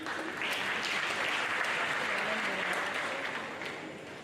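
An audience claps for Professor Edi Eragbe at a university lecture, a steady spread of applause at moderate volume that eases off toward the end, with a faint voice under it.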